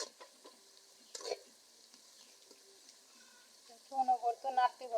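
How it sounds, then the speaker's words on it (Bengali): Onions being stirred and fried until brown give a faint, low sizzle with scattered soft clicks and one sharper scrape of the spoon. A voice is heard speaking near the end. "বাদামি রং আসার আগ পর্যন্ত এটাকে ভেজে নেব।"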